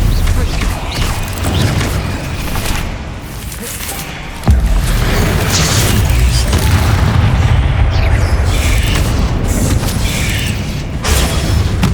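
Confringo fire-blast spells in the Hogwarts Legacy video game land as loud booming impacts over dense game noise, with one sharp heavy hit midway and steady rumbling action throughout.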